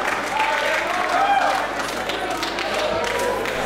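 A crowd at a live independent wrestling show cheers and applauds during a match, a dense continuous roar of claps and shouts at steady loudness, with a commentator's voice over it.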